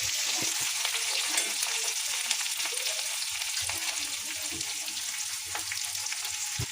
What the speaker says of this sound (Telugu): ఆనియన్స్ వేసుకున్నాము, పచ్చిమిర్చి, కరివేపాకు వేసుకున్నామండి. వేసుకొని కలుపుకుందాం.